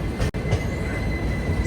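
A blue-coloured Secunderabad–Danapur express train rolls past close by, a loud, steady rumble of coaches and wheels on the rails with a brief dip in noise partway through.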